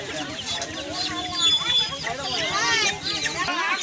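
Chickens being handed out to families under a government livestock program cluck and squawk nearby, partly masked by people talking over them.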